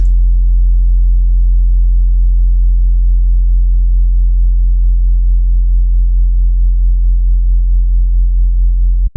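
Synthesized bass tone with harmonics added back in, a loud, steady, low droning note that holds unchanged for several seconds and then cuts off abruptly.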